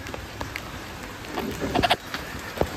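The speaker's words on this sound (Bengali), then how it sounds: "টিপটিপ করে বৃষ্টি পড়ছে, বেশি জোরেও না, মিডিয়াম ভাবে" Light drizzling rain patters softly and steadily, with a few faint drops landing on a surface, quiet and diffuse.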